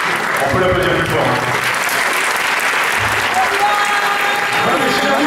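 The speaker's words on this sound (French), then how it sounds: "On peut l'applaudir plus fort." Theatre audience applauding at a live mentalist show, steady dense clapping that fills the whole stretch at close range, with a voice speaking faintly underneath.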